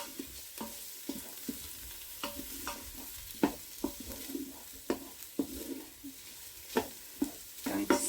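Garlic sizzles and fries in a pot while soup is being made for chicken noodle soup, with steady crackling and a series of sharp scraping clicks from stirring.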